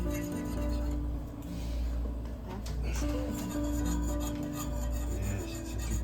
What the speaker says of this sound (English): Whisk until thickened, and broth coats the back of a spoon.